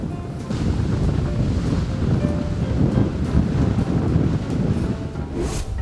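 Strong storm wind roars steadily with crashing sea waves, a loud, continuous wash of noise with blustery gusts buffeting the microphone throughout.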